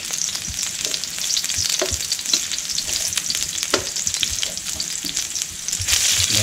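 Red onions and garlic sizzle steadily in a hot pan, a continuous bright frying hiss with occasional soft stirring knocks throughout, close and fairly loud, no voices.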